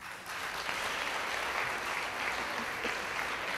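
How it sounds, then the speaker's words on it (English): A crowd applauds steadily after a lecture, a dense wash of clapping that holds at even loudness throughout, with no voices over it. "would you give Father Matt one more round of applause?"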